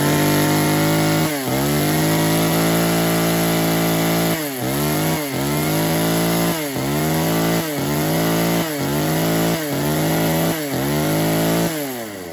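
Tanaka KI330 mini top-handle chainsaw with a 37 cc engine running steadily at a loud, close idle, its buzz repeatedly dipping and surging in short rhythmic bursts as the throttle is blipped over about twelve seconds, with no voices.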